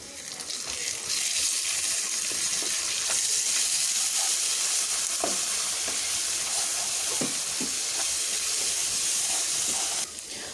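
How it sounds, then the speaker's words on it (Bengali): A spice paste of garlic, ginger and cumin pastes with salt, turmeric, chili and coriander powders fries in hot oil, giving a steady bright sizzling hiss that runs unbroken for about ten seconds with no talking. "মশলাটা সম্পূর্ণ ভাজা হয়ে গেছে।"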